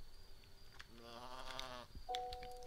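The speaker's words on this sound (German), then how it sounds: "Mäh, ein Schaf." A sheep in the video game Starbound lets out a single wavering bleat lasting about a second, close and clear over low background game ambience, followed by a short electronic chime.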